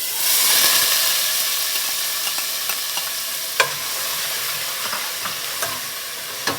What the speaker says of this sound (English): Just for 1 minute, I will stir fry onion